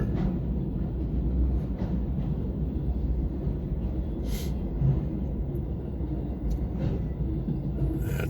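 A long Norfolk Southern freight train rumbles past steadily, a continuous low roar with occasional faint squeals and clanks from the cars.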